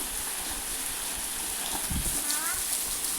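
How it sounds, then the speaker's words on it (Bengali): Rain water falling, a steady hiss of spray and drips that sounds near and fills the whole stretch, with a faint voice briefly under it. "বৃষ্টির জল"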